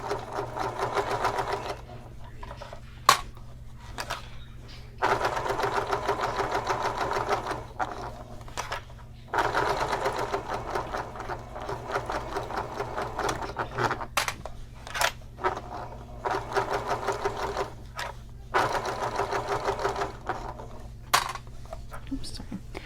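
A sewing machine stitches a shoulder bag in repeated bursts of rapid mechanical whirring, each a few seconds long, separated by short pauses and sharp clicks, close and loud.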